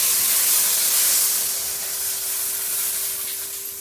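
Water poured into hot oil and fried spice paste, a loud steady hissing sizzle with a faint hum underneath, slowly easing as it settles, with no talking.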